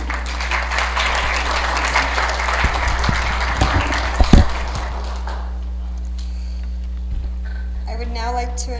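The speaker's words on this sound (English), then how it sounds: "You can applaud, it's okay." An audience applauds at a memorial service, with steady clapping filling the room for several seconds before fading into quieter murmurs and a few scattered sounds.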